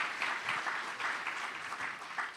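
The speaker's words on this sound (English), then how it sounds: "let's give them another round of applause for their engaging and inspiring" Audience applause for panelists at an international ocean forum, a steady, dense clapping from a crowd that holds evenly for a couple of seconds with no voices over it.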